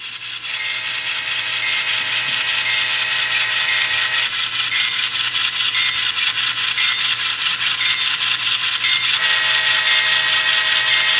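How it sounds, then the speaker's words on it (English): A small motor whirs steadily with a rapid clicking, ratcheting rhythm, continuous and close, as a ScaleTrains N scale Dash 9 model locomotive runs along its track. "how these N-scale locomotives look and sound and how they operate"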